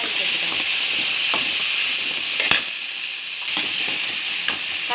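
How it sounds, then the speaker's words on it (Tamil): Onions, green chillies and curry leaves sauté in hot oil for a bitter gourd kuzhambu, giving a loud, steady, close sizzle and hiss broken by a few sharp stirring scrapes against the pan. "வெங்காயம், பச்சை மிளகாய், கருவேப்பிலை போட்டு நல்லா வதக்கிக்கிறோம்."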